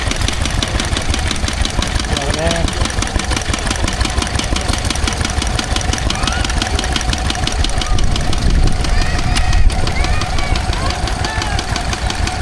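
A Lister D stationary engine runs steadily at a steam and craft fair, its continuous mid-pitched chugging filling the scene throughout, with outdoor crowd noise and a brief spoken remark over it.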